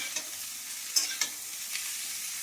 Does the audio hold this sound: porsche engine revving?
no